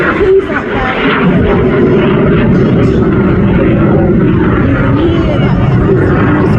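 A display aircraft at the Clacton seaside airshow roars loudly and continuously as it pulls up under engine thrust, a broad, rushing engine noise filling the whole stretch with a crowd murmuring beneath it.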